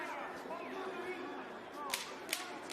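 A clapper's sharp clap rings out twice over a noisy arena crowd, marking the final seconds of a round in the Jose Ramirez vs Viktor Postol boxing fight, each a brief crisp crack above the steady murmur.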